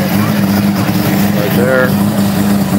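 A rotary-engined Toyota Supra race car drones with a steady engine hum at a street racing event, heard under continuous crowd chatter and nearby voices.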